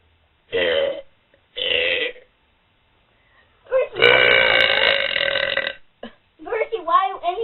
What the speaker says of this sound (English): we're gonna do a burping contest